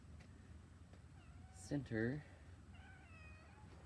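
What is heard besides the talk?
pet cat meowing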